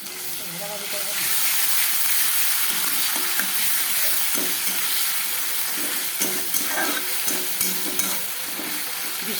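Spice masala fries and gets stirred in a pan, a steady hiss of sizzling with repeated scraping and tapping strokes of the spoon, moderately quiet.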